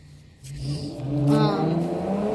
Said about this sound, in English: I don't know if you heard that car outside.